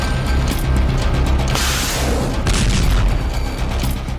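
Heavy booms from shelling roll over one another in a dense, continuous barrage, loud and close with scattered sharp cracks mixed in, and no voices.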